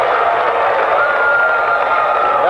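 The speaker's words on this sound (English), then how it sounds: "That wakes up the crowd here to my right from Marshall" A high school basketball crowd in a gym, Marshall High School at Columbia Rock Bridge in 1993, cheers loudly and steadily after a dunk, a dense, sustained roar of many voices with no clear break.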